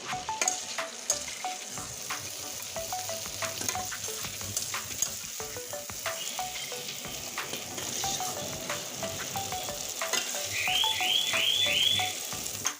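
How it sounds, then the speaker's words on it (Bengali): Raw green tomatoes fry in mustard oil with turmeric, a steady close sizzle broken by repeated scraping and stirring taps of a spatula, with a brief chirping sound near the end. "আমি টমেটোগুলো সুন্দর করে ভেজে নেবো"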